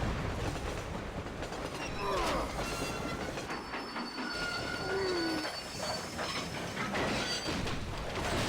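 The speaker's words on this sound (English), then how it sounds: "All you had to do was follow the damn train, Marston." Train from the video game Red Dead Redemption rolling along the rails, with steady rumbling, clattering wheels and drawn-out metallic squeals, loud and continuous throughout with no talking.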